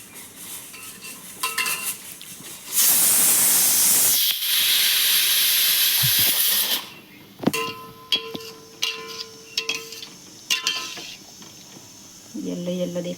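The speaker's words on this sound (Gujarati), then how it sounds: "હવે આને આપણે ધીમી આંચ પર ગેસ પર મૂકી દઈશું." Mango cooks in a pan on a gas stove over a low flame, with a loud hissing, steaming burst followed by clinks and scrapes of a utensil stirring against the pan, close by.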